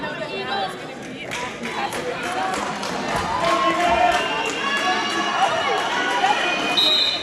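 A crowd fills a gym at a boys varsity basketball playoff game, chattering and cheering, with sneaker squeaks and ball bounces; the noise swells louder midway and stays raised.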